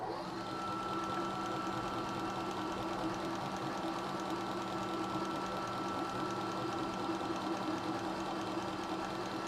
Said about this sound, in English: We've got the boring head, the cutter all the way down in the middle, and we're going to try and face the bottom part of this off.